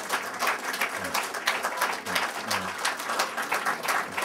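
An audience applauds after a talk on Yiddish dialectology, a dense, sustained round of clapping from a roomful of people, steady throughout with faint voices mixed in.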